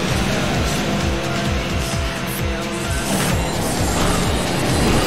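A vehicle in the PlayStation 5 racing game Kinetica accelerates with a loud, steady engine roar and repeated rising pitch sweeps, plus a hint of tire squeal, close and continuous with no voices.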